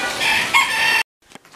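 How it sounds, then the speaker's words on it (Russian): A rooster crows loudly and close at a campsite in Spain during Easter, one sustained call cut off sharply, followed by a few faint hen clucks in the quiet after. "Петух вон там сидит, поет."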